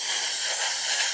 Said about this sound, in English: spraying it very lightly so that we don't get this build up, because then you won't get it matte